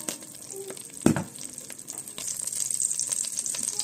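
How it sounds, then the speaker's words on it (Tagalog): Butter melting in a pan for pork afritada sizzles softly and steadily, with a brief clatter of a utensil near the start and the fry noise swelling slightly toward the end. "Mag-melt tayo ng butter."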